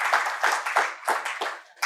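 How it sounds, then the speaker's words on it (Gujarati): An audience at a Gujarati literary gathering gives a warm round of applause to two speakers, with dense, continuous clapping that swells and dips in waves and carries a faint murmur beneath it. "બંને વક્તાઓનું ખૂબ તાળીથી સન્માનપૂર્વક અભિવાદન કરીશું"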